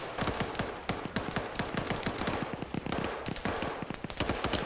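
Dense, rapid gunfire crackles in quick bursts throughout an Arma 3 firefight, many close shots overlapping in a steady, loud volley.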